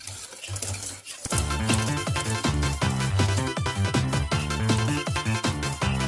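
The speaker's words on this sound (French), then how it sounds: "Donc, vous allez mélanger. Et on va mettre l'huile lentement." Carrot cake batter being mixed in a bowl while oil is poured in slowly, heard as a steady run of quick scraping, clinking utensil strokes against the bowl, loud and close, with no talk.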